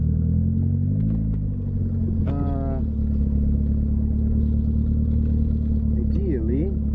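A Mitsubishi Eclipse with a boosted engine tuned on an AEM FI/C idles with a deep steady rumble, then gives one short rev around the midpoint and another brief blip near the end, up close, while a person talks over it.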